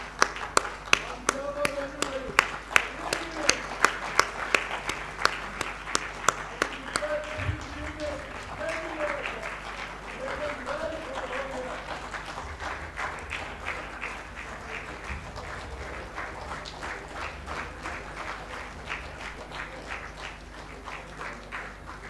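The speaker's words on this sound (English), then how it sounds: "give him a big applause, please" Audience applause during a prize handover at a national convention award ceremony: crisp sharp claps at first, then a steadier spread of clapping carrying on beneath a speaking voice and background music, moderately loud.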